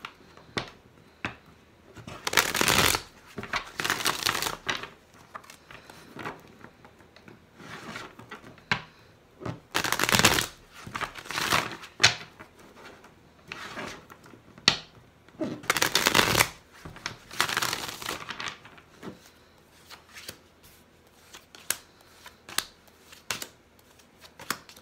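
Tarot cards are shuffled close by in several quick riffling bursts, with quieter handling sounds between them.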